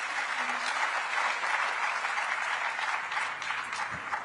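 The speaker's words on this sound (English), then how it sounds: "And you hear the round of applause." Sustained round of applause at a COP28 climate, relief, recovery and peace declaration session, a steady dense wash of many hands clapping throughout, fairly even in loudness.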